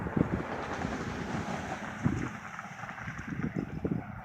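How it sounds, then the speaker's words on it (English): Strong wind buffets a cell phone microphone outdoors beside a garden, a loud continuous rumbling roar with gusty thumps and no voice over it. "I know this wind is going to drown out my voice"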